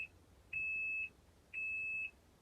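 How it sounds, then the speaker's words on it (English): A Sphere 3.0kg caravan washing machine signals the end of its cycle with steady, high electronic beeps, each about half a second long, two heard a second apart over quiet background noise. "think it does 10 beeps, which are quite loud, so you could hear it from quite a distance, just so you know when it's done"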